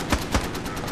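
Machine gun fire from an MG bunker in the military shooter Squad, a couple of punchy shots in quick succession over a steady rumbling battlefield background.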